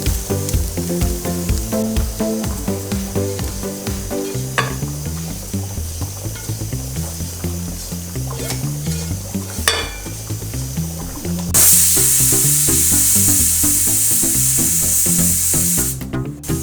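Ingredients for a Kerala-style yucca and beef curry fry in a pan as they turn golden brown, with turmeric added. A continuous sizzle sits under tonal background music, rising to a loud, close, steady hiss near the end.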